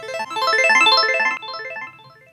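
A bright synth arpeggio steps rapidly up and down through climbing high notes, looping evenly before thinning out and fading toward the end.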